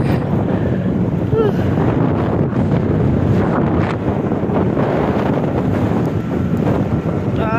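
Strong headwind roars and buffets the microphone while cycling, in a continuous heavy rush, with faint voices partly buried beneath the noise.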